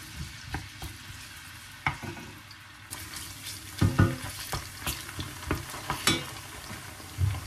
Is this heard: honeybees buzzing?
no